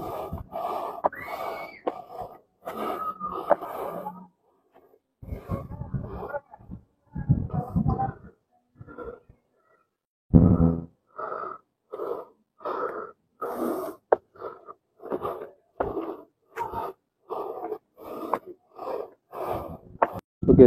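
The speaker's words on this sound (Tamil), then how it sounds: "காலை தூக்கி வச்சு ஏறக்குள்ளேயும் பயங்கரமாக மூச்சு வாங்குதுங்க." Heavy, rhythmic panting while climbing a steep, rocky hill path strewn with large stones: loud, close, wheezy breaths in repeated bursts with short gaps, growing more regular and labored.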